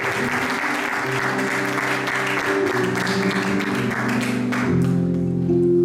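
A church congregation claps steadily and warmly throughout, the applause mixed with sustained music and a murmur of voices.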